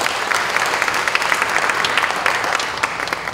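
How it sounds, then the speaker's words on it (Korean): A congregation at a Korean Methodist church general assembly's opening service claps together in sustained, even applause that fills the hall at steady volume from start to finish, with no speech over it. "28차 총회를 허락하신 하나님께 우리 감사의 박수를 많이 올려드리도록 하겠습니다."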